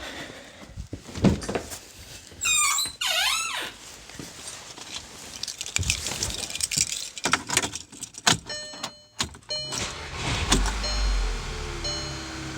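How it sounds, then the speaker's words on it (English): A Volkswagen CC with a P0300 misfire fault, preceded by clicks, jingles and a brief squeal inside the car; near the end the engine turns over and settles into a steady low idle. "Let's go ahead and start it up."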